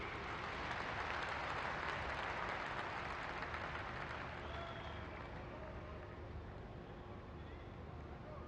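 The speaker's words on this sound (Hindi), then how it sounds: "आपकी जोरदार तालियों के बीच" Loud, dense applause from a large crowd at a postage stamp unveiling by the Prime Minister in Katra, Jammu and Kashmir, sustained as a continuous roar with some wind noise.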